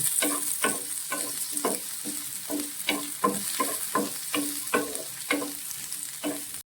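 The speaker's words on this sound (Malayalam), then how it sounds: "ക്യൂബ്സ് ആയിട്ട് അരിഞ്ഞു വെച്ചിരിക്കുന്ന ക്യാപ്സിക്കം കൂടി ചേർത്ത് നമ്മൾ നന്നായിട്ട് വഴറ്റിയെടുക്കണം" Cubed capsicum for chilli gobi is sautéed in a hot pan, with a steady sizzle under a regular rhythm of spatula strokes scraping and tossing, close and fairly loud, no voices.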